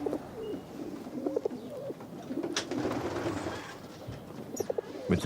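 Pigeons coo on the rooftops of a housing estate, soft repeated low calls heard at a moderate distance, with faint chirps and light outdoor background noise.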